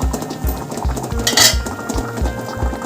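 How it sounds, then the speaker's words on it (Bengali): A metal lid is lifted off a pot in which lentils are steaming in a tiffin box, with sharp clinks and rattles of metal. A soft bubbling hiss runs underneath, close and fairly loud. "দেখুন আমি ঢাকাটা তুলছি"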